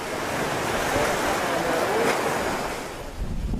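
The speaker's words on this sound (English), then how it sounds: "the lagoon is like a rough sea, which is not common" Rough storm waves churn across Rangiroa's normally calm lagoon in the South Pacific on a dark, rainy day, a steady broadband roar of surf and wind buffeting the microphone, swelling slightly toward the end.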